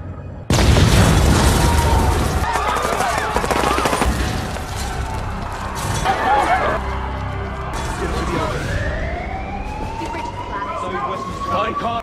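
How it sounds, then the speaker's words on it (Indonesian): A car bomb explodes in an action film scene, a sudden loud boom followed by chaotic rumbling, debris and crowd commotion, with a rising police siren wailing through the later seconds. "terjadilah ledakan yang membuat semua orang di sana panik"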